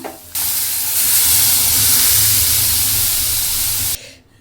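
Dal poured into a hot tempering for ridge gourd dal, bursting into a loud, steady sizzle that holds for several seconds, then cuts off abruptly.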